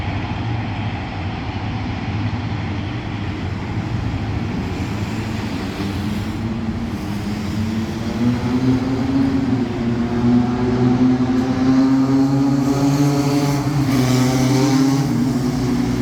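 A heavy diesel engine rumbles steadily and grows louder, with a rising drone as GEA locomotive 4560 passes nearby at ground level near Bang Son station, Bangkok.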